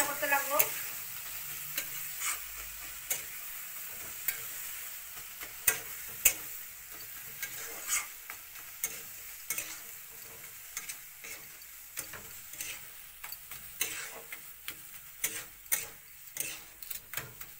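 A mustard spice paste with green chili, garlic paste, turmeric, chili powder and salt sizzles in a pan under a steady frying hiss, broken by repeated sharp scraping ticks of a stirring spoon.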